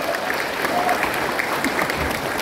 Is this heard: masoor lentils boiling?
no